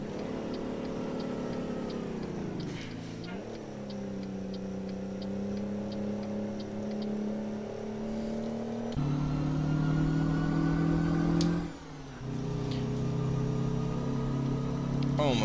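A Scot A2HD truck engine in American Truck Simulator drones steadily, its harmonic pitch climbing and settling through gear changes, with a rhythmic ticking indicator clicking over the engine and a brief dip before it revs again.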